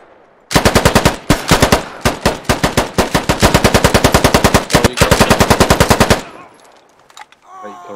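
Rapid bursts of automatic gunfire in the tactical shooter game Squad, loud and close, firing in long strings of evenly spaced shots from about half a second to six seconds, then a quieter tail with faint background noise.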